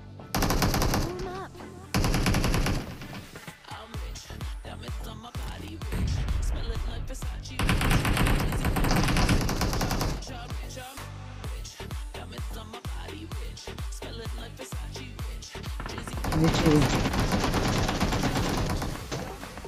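Automatic gunfire in a team shooter video game as enemies are finished off: loud, dense bursts of rapid shots that repeat almost without pause, with brief gaps between volleys.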